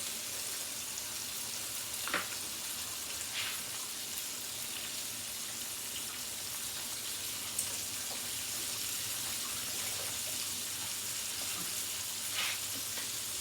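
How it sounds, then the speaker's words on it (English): A chicken fillet fries steadily in a pan, giving a faint, even sizzle throughout with a few soft clinks and splashes from washing up nearby. "So while the chicken fillet is frying"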